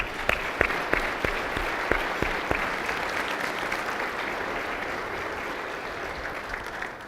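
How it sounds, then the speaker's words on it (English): Audience applause at a State of the City address in San Marcos, starting with a few sharp separate claps that quickly merge into steady, fairly distant clapping from a crowd. "Let's give Adriana and her team a round of applause"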